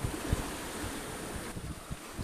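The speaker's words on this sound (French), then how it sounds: "il y a toujours un bon vent, c'est magnifique" Steady wind at sea, heard from a sailboat arriving in Sardinia, a broad continuous rush with low gusty buffeting on the microphone and a few thumps, alone with no voices.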